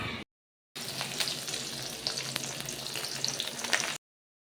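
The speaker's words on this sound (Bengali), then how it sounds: "রাঁধুনি কাঁচা লঙ্কা ফোড়ন দিয়ে পেঁয়াজটা ভাজছি" Onion frying in oil with green chili tempering and radhuni seeds after fish was fried, a close, continuous crackling sizzle with sharp pops, beginning and ending abruptly with short silences at each side.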